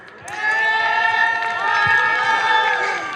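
A school audience, apparently students at a high school concert, bursts into loud, sustained high-pitched cheering and shrieking with some clapping. The crowd noise swells quickly and holds throughout.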